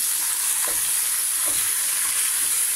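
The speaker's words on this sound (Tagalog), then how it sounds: "karne ng baka na mince. Tapos, halo-haloin." Beef mince fries in a pan, a continuous bright sizzle broken by a few soft scrapes as it is stirred, close and steady with no talking.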